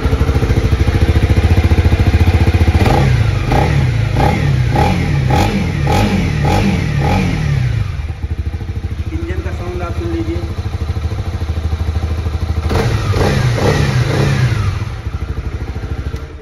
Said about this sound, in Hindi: इंजन का भी साउंड इसमें काफ़ी बढ़िया दिया गया है।